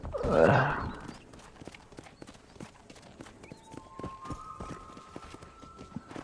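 Horse hooves clip-clop in Red Dead Redemption, a steady rhythmic trot of close, distinct hoof strikes, with a horse's whinny at the start and faint background tones.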